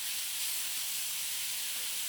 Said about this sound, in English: I noticed I was losing a little bit of sizzle on my sauté